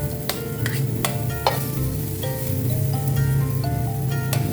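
Onions sauté in a pan, giving a busy, crackling sizzle with sharp spatters and clinks of a utensil against metal, close up, the frying growing slightly louder toward the end.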